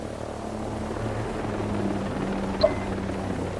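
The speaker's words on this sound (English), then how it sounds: "Oh, helicopter, get low" A helicopter flies overhead in the video game Ghost Recon Breakpoint, giving a steady, low rotor drone that holds at moderate level for a few seconds with a faint buzz on top and no talk.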